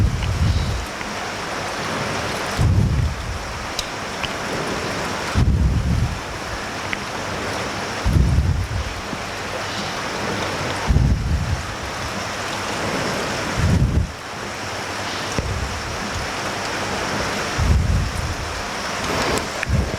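Water rushing through a hose while a marine aquarium is drained, a steady splashing wash broken every few seconds by heavier low gushing surges, nearby, with no talk.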